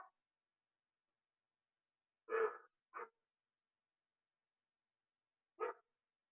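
A dog gives a few short, sharp barks, one early pair and a single bark a few seconds later, faint and distant against silence.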